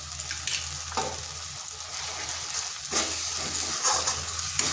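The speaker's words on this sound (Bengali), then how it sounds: "মশলাটা ভালোভাবে কষিয়ে নিচ্ছি।" Ground spices like Kashmiri chilli powder, cumin, coriander and salt fry in oil in a pan for an egg dish, giving a steady close sizzle with scraping stirs and louder hissing bursts.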